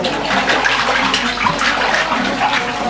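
Water splashing and pouring down steadily and close, as if emptied over someone's head outdoors, with a continuous broadband rush and no talk.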